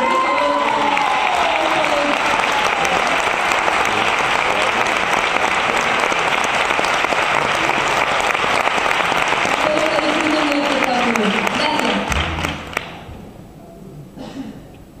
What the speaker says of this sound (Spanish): él se merece el primer aplauso de esta noche